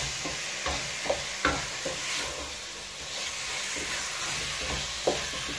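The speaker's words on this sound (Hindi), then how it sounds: "और ये चिकन को हम अच्छी तरह इसमें मिक्स कर लेंगे।" Chicken frying in a karahi, an even background sizzle and hiss with a handful of distinct scrapes and knocks as it is stirred, close up and with no voices.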